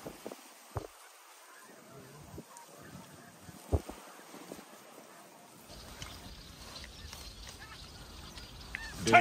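Snow geese honking during a hunt in Arkansas: scattered honks and calls at a distance over a quiet outdoor background, growing busier and louder toward the end, with some faint voices.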